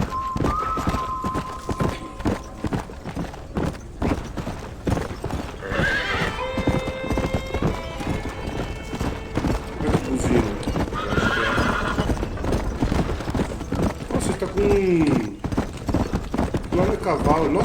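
Rapid clip-clop of a wild horse's hooves galloping with whinnies and neighs, layered over Red Dead Redemption game music and effects, with a voice talking intermittently.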